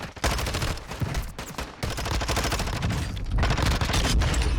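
Rapid, sustained bursts of ISO Hemlock rifle fire in the Warzone 2 video game, loud and close, with dense overlapping shots and booms running almost without pause.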